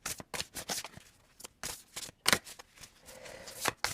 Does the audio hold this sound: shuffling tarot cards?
yes